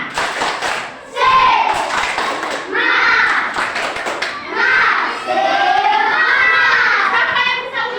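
Classroom children clap and shout a spirit chant together, loud voices with rhythmic hand claps and thumps filling the room, close and energetic in several bursts.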